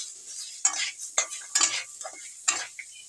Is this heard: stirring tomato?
yes